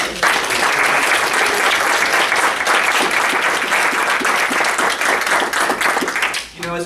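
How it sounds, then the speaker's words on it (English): Applause at a Town of Plattsburgh meeting, a loud, steady round of many people clapping that holds for several seconds before dipping, with a voice starting up at the very end. "can we also give Erin and Mel a round of applause"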